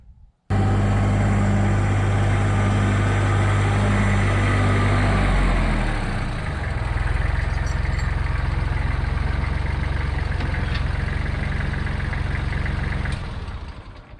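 A Kubota L3830 farm tractor engine runs close by after a wheel bearing and seal repair, starting with a heavy throbbing idle that drops into a smoother steady rumble before cutting off near the end.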